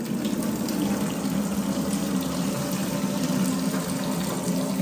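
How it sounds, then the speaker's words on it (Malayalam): Water runs steadily from a kitchen tap in a constant, close, even rush with no pauses, and no one speaks over it. "അതിൻ്റെ ടാപ്പ് തുറന്നിട്ടില്ല. ടാപ്പ് തുറക്കുക."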